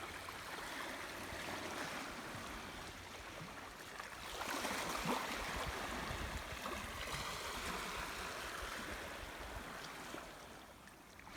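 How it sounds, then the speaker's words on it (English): Small waves lap on a beach in a soft, continuous wash that swells slightly midway, faint and steady with no voices. "so you can actually listen to the lapping of the waves here on the beach"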